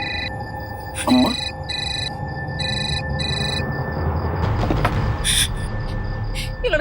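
A phone rings in repeated electronic trill bursts over a rumbling background, with a voice speaking briefly between rings.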